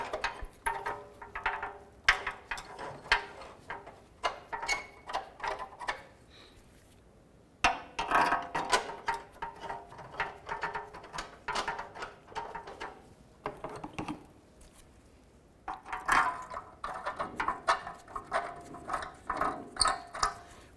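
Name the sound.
tightening Jeep Grand Cherokee differential bushing bolts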